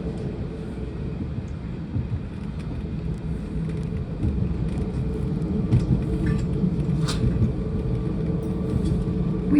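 A London passenger train runs toward Bowes Park and Enfield Town, heard from inside the carriage. A steady low rumble and running drone carry on throughout, with faint clicks and rattles and a slight swell toward the end. No one talks.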